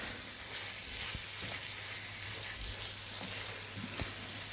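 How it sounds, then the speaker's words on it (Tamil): Chicken gravy masala sautés in a pan, a soft, even sizzle with a low hum beneath and a few light spoon taps while it is stirred. "நல்லா ஒரு 20 செகண்ட்ஸ்க்கு இதை வந்து நல்லா வந்து வதக்கி விட்டுக்கோங்க."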